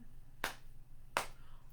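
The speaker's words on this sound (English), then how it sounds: "So we are going to clap, clap, and then we are going to slap our knees." Two sharp hand claps about three-quarters of a second apart, crisp and close, marking the start of a clap-and-knee-slap rhythm at a children's storytime; no voices.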